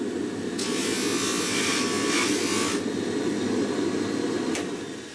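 A handheld power tool polishes the face of a metal Potter USA silhouette die, giving a steady, close, buzzing whine with a few brief bursts of brighter grinding, and no talking.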